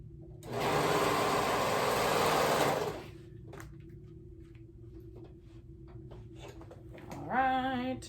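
A sewing machine stitches a romper seam in one steady whirring run of about two seconds, followed by quiet handling clicks and a short high mechanical whine at the end.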